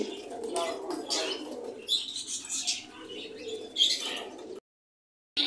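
Pigeons at a busy pigeon market coo and chirp close by in a steady run of calls, with a few brief wing flaps, ending in a short silence.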